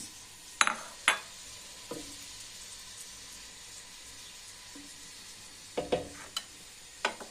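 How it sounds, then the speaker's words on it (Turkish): Meat browning in a pot for a vegetable stew, a quiet steady sizzle punctuated by sharp knocks and scrapes of a utensil against the pot. "Şimdi etimizi bağlatacağız."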